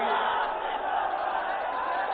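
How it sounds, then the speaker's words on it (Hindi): A large crowd at a Samajwadi Party workers' rally at Bapu Inter College, Kopaganj, Ghosi in Mau roars continuously, a dense sustained wash of cheering and shouting with no pauses. "अपार भीड़,"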